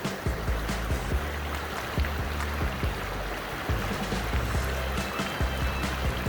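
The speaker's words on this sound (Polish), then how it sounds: "płynie, płynie sobie strumyk" A small stream flowing steadily outdoors, a continuous close wash of water with bursts of splashing and bubbling and no voices.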